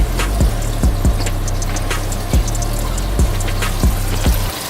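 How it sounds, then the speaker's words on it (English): Water runs from a tap into a cooking pot with a steady low gurgling fill and small splashes, loud and close, stopping abruptly near the end. "we're gonna fill that up with some water."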